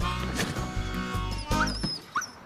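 A puppy whimpers and yips close by in a few short, high whines over a steady low hum, with no talk over it.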